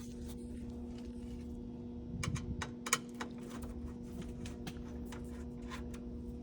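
A small screwdriver works the hard drive bracket screw inside a laptop, a quick run of faint clicks and ticks over a steady low electrical hum, no voices.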